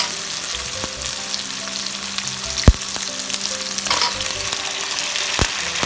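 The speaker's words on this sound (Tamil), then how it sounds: "இது வந்து நல்லா ப்ரௌனாக ஆகிற வரைக்கும் நல்லா வதக்கிட்டே இருங்க" Onions sautéed in a pan until browning for pepper chicken, a continuous crackling sizzle with scattered clicks of stirring and one sharp knock, close up and without speech.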